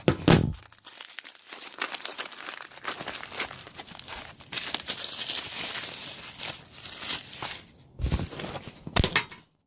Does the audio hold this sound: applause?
no